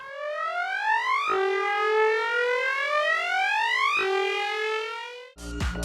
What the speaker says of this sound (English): Try stretching or shrinking the audio for a nice glitchy lo-fi